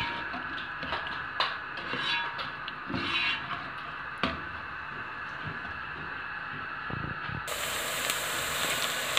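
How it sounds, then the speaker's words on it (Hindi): Chopped onions fry in hot oil in a pan on the way to medium brown, giving a steady soft sizzle and hiss with occasional stirring scrapes, moderately close and without speech. "ये ऑयल डाल लिया है और अब हम प्याज को ब्राउन करेंगे इसमें।"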